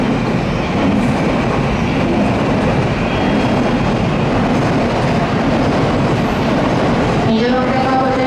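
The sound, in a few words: Shinkansen bullet train arriving at station platform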